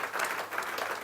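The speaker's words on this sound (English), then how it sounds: "Let's give him a round of applause" Steady applause from a panel discussion audience, a dense wash of clapping hands throughout.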